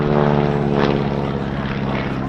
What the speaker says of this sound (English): Now the engine on this aircraft is what we call a radial.